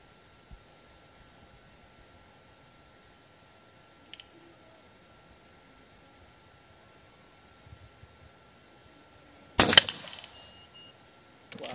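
Single sharp air rifle shot from a Cano M22 barrel on an URKO III bullpup firing JJ slugs at a 100-metre range, a loud crack with a brief ringing tail standing out alone against a quiet outdoor background.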